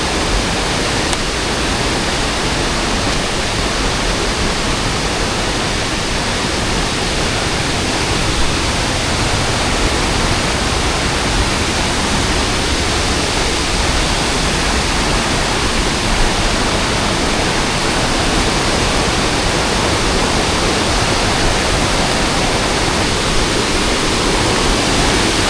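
A powerful waterfall on Mt. Romelo, its heavy rushing water forming a loud, steady broadband roar that fills the whole time without letting up, with no voices heard over it.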